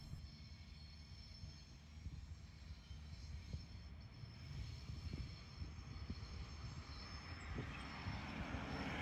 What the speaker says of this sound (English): here's another metro train about to come into service